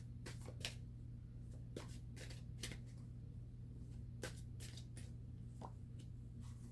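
Tarot cards are being shuffled by hand, giving soft, intermittent riffles and slaps that come in irregular bursts. The sounds are faint and close, over a low steady hum.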